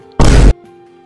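A single short, loud explosion magic blast from the video game Arcane Odyssey, a dense booming burst lasting a fraction of a second against quiet game ambience.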